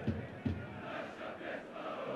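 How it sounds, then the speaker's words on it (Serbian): Away football supporters cheer and chant from the stands late in a 2–2 league match, a distant, low crowd roar with a couple of short surges. "Ovo su gostujući navijači koji su sada"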